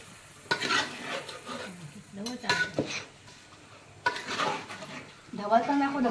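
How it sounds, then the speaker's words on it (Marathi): Chicken masala stirred in a pot over a wood-fired stove in a Konkan village kitchen: bursts of spoon scraping and sizzling, close and moderately loud, with people talking between the strokes. "ढवळतोय चांगला मसाला।"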